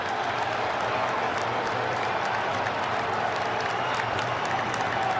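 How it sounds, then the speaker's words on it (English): A stadium crowd at a 2018 NFL game between the Buccaneers and the Giants gives an injured player a steady, loud ovation, with dense applause and cheering sustained throughout. "Classy move to give him a nice round of applause"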